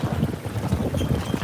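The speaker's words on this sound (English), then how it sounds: "Oh crap, it's windy." Strong, gusty outdoor wind buffeting a microphone, a continuous rumbling roar that swells and dips throughout.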